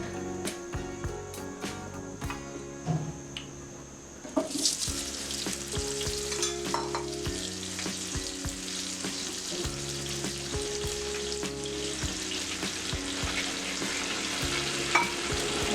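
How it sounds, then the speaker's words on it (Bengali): Local potatoes frying in oil in a pan for beef tehari: a quiet start, then a loud, steady sizzle with stirring and scraping, alongside faint background tones. "আলুটা ভেজে নিচ্ছি।"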